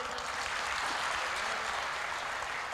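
A crowd at a comedy show gives a dense, even wash of applause that holds steady for a few seconds without voices.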